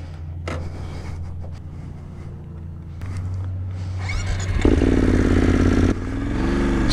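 BMW GS motorcycle with gear shift assist riding along, its engine rumbling steadily and rising in pitch as it accelerates, with a shift clunk and a change in engine note partway through.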